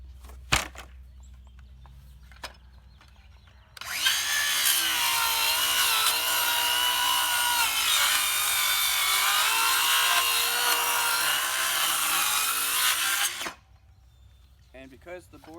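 A 6.5-inch circular saw cuts through thick wooden pallet boards for a raised garden bed, a loud, steady, high-pitched whine lasting about ten seconds that starts abruptly and then stops, with quiet handling noises before and after.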